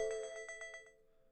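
A TikTok incoming-call ringtone chimes faintly during a livestream, with about seven evenly spaced soft tonal pulses that fade out.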